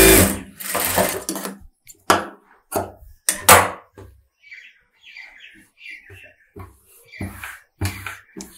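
A sewing machine stitches a blouse lining in short, loud, stop-start bursts, separated by quieter handling noises.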